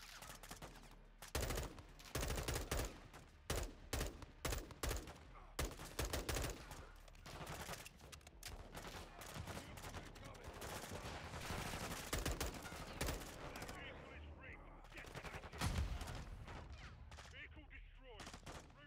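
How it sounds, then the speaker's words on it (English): Gunfire in the video game Call of Duty: Modern Warfare II: dense bursts of automatic fire and single shots rattle in rapid clusters for nearly twenty seconds, loud and close, with occasional voices in between. "My men need cover fire."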